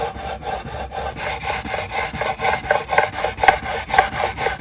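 Guitar frets are sanded by hand in a steady rhythm of close, gritty back-and-forth strokes, each scrape swelling and fading in regular succession.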